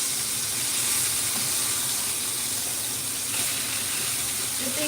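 Meat sears in a hot pan at home, a steady close hiss with faint crackle running without a break for several seconds and no talk over it.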